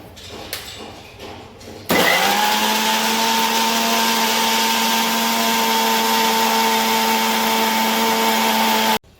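A mixer grinder starts abruptly and runs at a high, steady whine while grinding ginger with water, loud and close, then cuts off sharply at the end; no talking.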